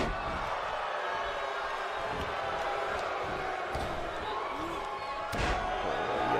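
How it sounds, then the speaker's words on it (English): Wrestler's leg drop slamming onto the ring mat in a tag-team match, a loud thud over constant crowd noise from the arena, with a commentator talking over it. "Oh, yes, big leg drop there."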